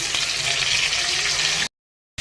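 Spice paste hits a hot pan for a fish curry with potato and cabbage and sizzles in a steady, bright hiss that cuts off abruptly near the end.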